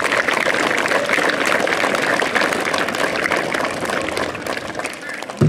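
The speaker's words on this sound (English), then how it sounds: "So a round of applause" Crowd applause at a Little League opening day, steady outdoor clapping from an audience at fairly even loudness, thinning slightly toward the end.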